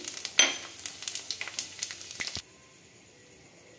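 Bay leaf, two dried red chillies and panch phoron hitting hot mustard oil crackle and sizzle in a busy run of sharp pops for about two seconds, then the frying suddenly drops to a quiet hum.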